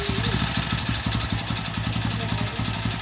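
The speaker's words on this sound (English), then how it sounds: "On ang engine." A motorcycle engine running at idle close by, a steady low mechanical putter with light clatter, continuous and fairly loud throughout.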